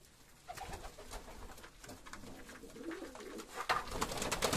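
Pigeons coo softly and repeatedly in a rooftop loft, their low, throaty calls overlapping at close range amid faint rustling and shuffling.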